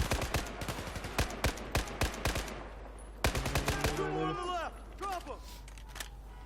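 Rapid bursts of gunfire from the video game Battlefield 4, loud sharp shots in quick clusters, followed by sweeping descending whistles and tonal game effects, with voices talking over the action.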